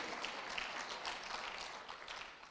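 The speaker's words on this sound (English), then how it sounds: "Come on, clap for Jesus." Church congregation clapping during a service, a faint, distant, continuous spatter of hands throughout the short moment.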